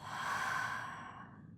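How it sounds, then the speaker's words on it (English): One long, deep exhale pushed out through the mouth, close and soft, breathy and fading toward the end, no talk. "Deep breath in through your nose. Exhale through your mouth."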